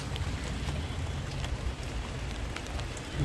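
Heavy monsoon rain falling on garden plants, a dense continuous patter of drops on leaves and surfaces with occasional louder splats, steady and close, no talking.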